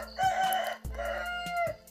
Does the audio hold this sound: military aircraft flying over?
no